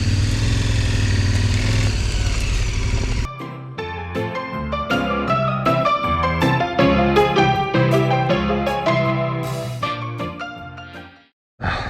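A KTM 1290 Super Adventure R motorcycle works off-road. A rough, loud engine roar comes first, then uneven revving bursts and throttle blips with a brief drop near the end.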